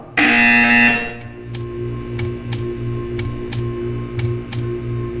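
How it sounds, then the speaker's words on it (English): In the Portal 2 video game, a loud electronic buzzer blares for about a second, followed by a steady series of sharp ticking clicks over a low droning hum. "You will hear a buzzer."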